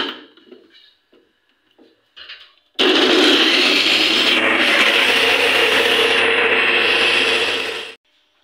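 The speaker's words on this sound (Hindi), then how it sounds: "इसको मैं डालूँगी मिक्सी में और इसके हम बनाएंगे ब्रेड क्रम्स।" A mixer grinder grinds bread into breadcrumbs for a chicken patty burger. A few soft clicks of handling come first, then a loud, steady motor roar with churning crumbs runs about five seconds and cuts off abruptly.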